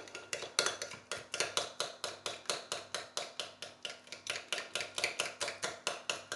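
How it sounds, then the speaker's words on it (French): Homemade mayonnaise being whisked in a bowl for a shrimp and surimi salad, a steady rapid rhythm of clinking strokes against the bowl, close and fairly even, with no talking. "Et on continue à mélanger la mayonnaise."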